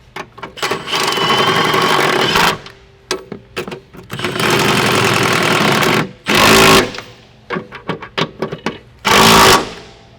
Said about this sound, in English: Now we can take our 16mm socket again and go ahead and tighten the upper shock mount.